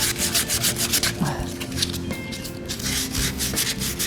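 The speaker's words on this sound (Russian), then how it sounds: "Немножко пройтись наждачкой," Sandpaper works a wooden piece with quick, rhythmic back-and-forth rubbing strokes. It sounds close and steady and plays alone, without talk.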